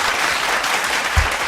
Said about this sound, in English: Clap it up for that, man.